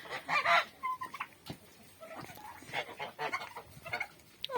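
Noisy farmyard geese and black turkeys call loudly in repeated honks and gobbling bursts, several birds overlapping at close range with no talk.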